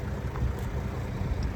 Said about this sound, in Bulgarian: Отлична работа на мотора.